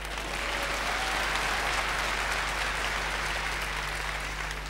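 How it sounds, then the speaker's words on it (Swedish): Steady, dense applause from a large audience at a 1999 Swedish entertainment show, continuous clapping with a low hum beneath and no break. "Ja, tjejer, det tycker jag är värt en applåd."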